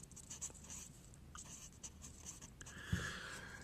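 Faint pen or pencil scratches on paper come in short, soft, irregular strokes at close range, with a brief louder tap near the end.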